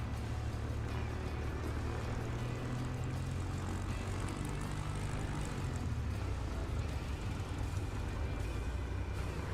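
Aircraft taxiing in Microsoft Flight Simulator during a National eSTOL Appalachian Mountain event, with a low, steady propeller-engine drone that holds constant and fairly quiet throughout.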